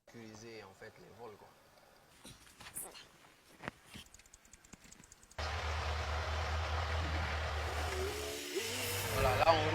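A homemade vehicle labours under heavy load. Its engine sets up a loud, steady, droning hum that starts abruptly partway through, after a stretch of people talking and scattered noises.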